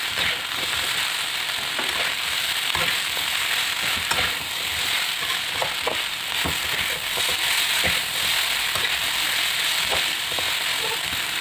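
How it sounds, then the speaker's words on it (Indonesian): Vegetables and chicken nuggets sautéing in a pan, a dense continuous sizzle with scattered scrapes and taps of a spatula stirring, close and steady throughout, no speech. "Tumis hingga airnya berkurang dan sayur sudah matang. Kemudian masukkan nuggetnya, aduk hingga tercampur merata."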